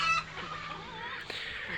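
Guinea fowl give short harsh calls on a poultry farm, a brief close cry followed by quieter chatter, with no talk.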